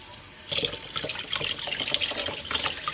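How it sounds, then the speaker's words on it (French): Tap water runs steadily into a kitchen sink while sardines are rinsed under it, a continuous close splashing gush that gets busier as hands move through the stream. "Je baisse un peu le robinet."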